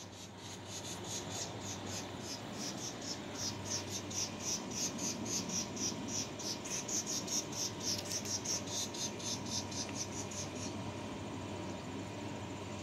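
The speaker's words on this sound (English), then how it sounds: "you hear the bird chirping at us?" A small bird chirps rapidly and angrily near its nest in a hanging flower pot, a fast unbroken string of sharp high notes over a low steady background hum.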